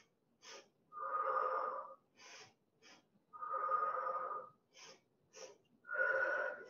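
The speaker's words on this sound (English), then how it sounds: "inhale through the nose, sniff," During a Pilates exercise, a person breathes close to the mic: quick sharp sniffs in through the nose alternate with long, blown exhales through the mouth, repeated three times.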